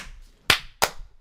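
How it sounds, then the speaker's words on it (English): Sharp, close hand claps used to sync an edit, two distinct loud cracks spaced about a third of a second apart against a quiet background. "One more clap."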